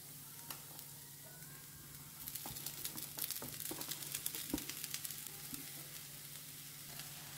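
Kingfish frying over a low flame in a pan, heard as a steady soft sizzle that swells after a couple of seconds, with scattered crackles and pops and a few utensil taps.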